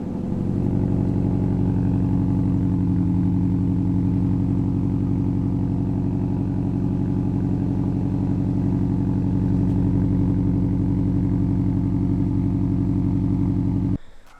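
A 2020 Subaru STI with a Magnaflow 3-inch catback exhaust and stock downpipe, with an exhaust leak at the adapter, idles with a deep, steady, rumbling burble close by, cutting off abruptly at the end.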